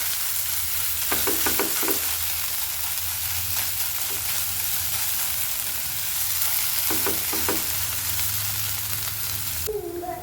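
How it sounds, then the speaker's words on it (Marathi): Patwadi rassa masala fries steadily in a pan with an even close sizzle, broken by a few short scraping stirs of a spoon. "हे छान परतून घ्यायचंय."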